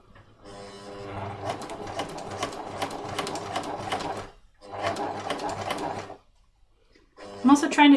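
A sewing machine stitches a smocked dragon-spine bag with piping, running in two long bursts of rapid mechanical whirring with a pause between, then a short restart, loud and close, with no speech.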